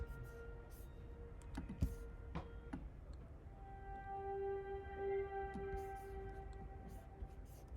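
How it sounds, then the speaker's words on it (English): Jupiter synthesizer accents in an indie pop production, sparse bell-like tones and sustained pads drifting across the stereo field over soft clicks and ticking textures, quiet and airy. "As you can hear, the Jupiter synth is actually panning."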